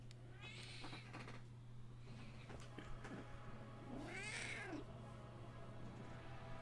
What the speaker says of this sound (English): He meows.